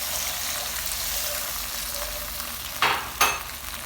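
Chili chicken gravy simmers and bubbles in a pan over a low flame while cornflour slurry is stirred in. A steady sizzle runs throughout, and two sharper scraping stirs come near the end.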